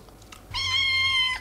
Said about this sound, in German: Wo hast denn die Kätzchen her?